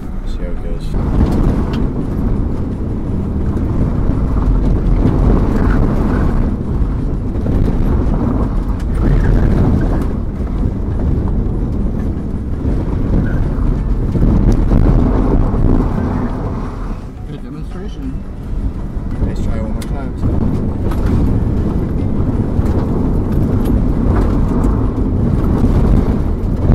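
Front-wheel drive Honda Civic drifting on a dirt surface, with a steady loud engine roar and rumbling tyre and wind noise throughout, rising as the driver brakes and accelerates, with talk over it.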